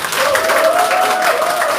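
A market crowd in Daegu's Wolbae market breaks into loud, sustained applause to welcome former party leader Hwang Kyo-ahn, a dense, close wash of clapping with a faint tonal whine running through it.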